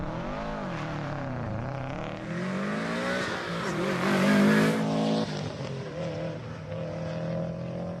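Subaru WRX hillclimb race car at a national hillclimb event, its engine revving loudly and close on the start line, rising through several throttle blips with a brief peak before settling back to a steady growl.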